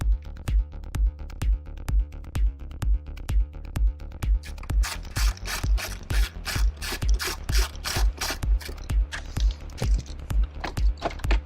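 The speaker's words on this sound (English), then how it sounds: "We're going to have the one torque screw to remove here." A ratcheting screwdriver clicks steadily while a Torx screw is removed from an interior trim panel of a 2012 Mercedes CLS, a fast regular series of sharp ratchet ticks, close and alone.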